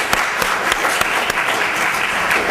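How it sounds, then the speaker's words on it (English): A crowd at a solitary confinement forum applauds steadily, close and full, with a few sharper individual claps standing out from the even wash of clapping. "Is that an applause?"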